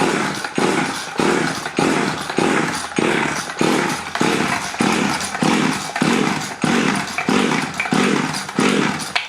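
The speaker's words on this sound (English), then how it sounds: "You know, we all love running chainsaws indoors, eh?" Neglected 1970s Danarm 1-36 chainsaw running indoors, loud and close, its two-stroke engine rising and falling in a regular series of revving bursts about every 0.7 seconds throughout. No one talks.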